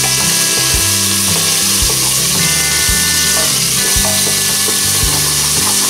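Rajma masala being stirred as it fries in a pan, a loud continuous sizzle with repeated scraping strokes of the spoon, close up and without talk.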